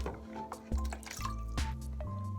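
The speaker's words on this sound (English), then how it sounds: "Now, the rinsing part." Clean water is poured gently over a cat in a bath, giving steady splashing and dripping with a few louder pours close by and no talk.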